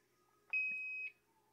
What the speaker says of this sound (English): you keep hearing my charger in the background going off